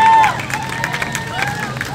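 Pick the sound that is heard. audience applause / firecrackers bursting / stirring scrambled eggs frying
audience applause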